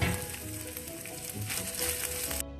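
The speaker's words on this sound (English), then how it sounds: "I'm going to fry this. I think I need to add a little bit more oil." Kale sizzles and spatters in hot oil in a pan, a steady close crackling hiss that runs throughout and cuts off abruptly near the end.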